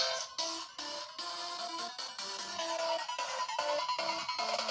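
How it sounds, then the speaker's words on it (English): An incoming phone call rings as a melodic ringtone, a steady looping pattern of bright tones repeating over about five seconds, moderately loud with no talking over it. "I got a phone call. But I'm not going to answer it, okay?"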